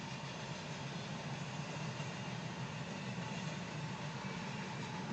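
A long freight train rolls past near its tail end in Waycross, a steady low rumble and rattling of cars that holds even and moderately faint throughout with no voices.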